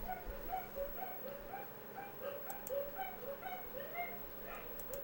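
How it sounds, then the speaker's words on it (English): A dog yips and barks over and over in the background at a quick, fairly steady rhythm, its repeated calls moderately faint against a low room murmur. "that dog don't make no sense in that barking"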